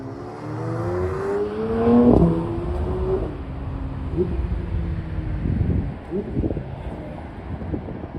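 A flat-six sports car revs and downshifts as it sweeps past in a Deauville street, a rising harmonic engine note peaking near mid-clip then fading into burbling revs, with wind buffeting the microphone.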